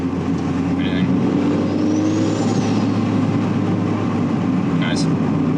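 A turbocharged NB Miata engine runs under boost with a steady, close drone, while a faint, rising turbo whistle swells briefly midway through.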